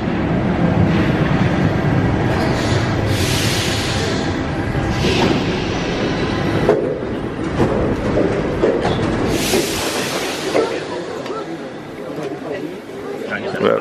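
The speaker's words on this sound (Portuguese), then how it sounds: "lá vem nosso metrô aqui, ó" A Paris metro train rumbles into a station, its low roar and screeching swelling and fading while people chatter and talk loudly throughout.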